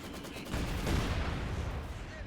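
An MG34 machine gun rattles in rapid bursts on the Across the Rhine battlefield of Company of Heroes 2, firing on a mortar crew. The gunfire is loud and steady, blending into a dense, continuous wash of battle noise for the whole stretch.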